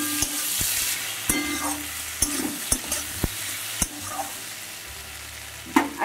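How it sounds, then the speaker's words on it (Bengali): Mourola fish curry with garden eggplant being stirred in a pan, a low simmering sizzle punctuated by a series of distinct scraping knocks from the spatula, close and clear. "এবার একটু নাড়িয়ে চাড়িয়ে নেব।"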